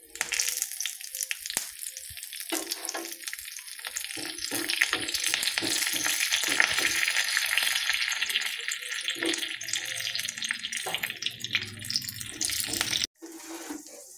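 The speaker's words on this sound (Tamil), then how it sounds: "இப்போது ஒரு கடாயில் கொஞ்சம் எண்ணெய் ஊற்றி வச்சு, எண்ணெய் சூடாகுது, கடுகு போட்டுக்கலாம்" Mustard seeds and curry leaves sizzle in hot oil in a kadai, a continuous close crackling hiss that cuts off abruptly near the end.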